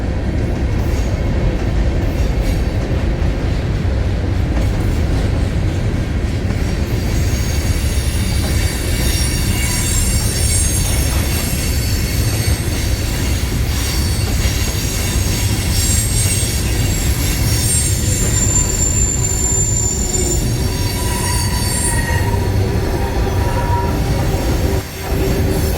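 Autorack freight train rolling past with squealing brakes, a loud continuous roar of wheels on rails with piercing high metallic squeals rising and falling throughout, close and sustained with no talk.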